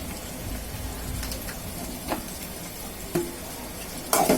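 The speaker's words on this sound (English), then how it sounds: "stir this spice and mix all ingredients" Spice paste for chicken korma is stirred in a pan, giving a soft steady sizzle with a few faint scraping clicks and one louder scrape near the end.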